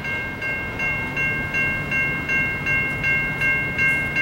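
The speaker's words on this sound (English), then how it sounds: "NS823 hopper train headed west." A westbound Norfolk Southern NS823 hopper freight train passes close by, its wheels giving a steady, evenly pulsing rumble and a sustained tonal whine throughout, loud and with no voices.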